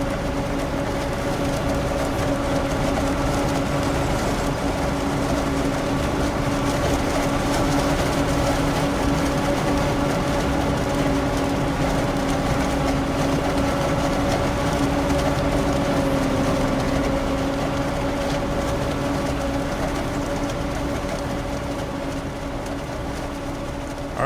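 Continuous droning tractor engine in Farming Simulator 25, a steady loud hum with sustained tonal whine that holds unchanged throughout, heard alone without talk.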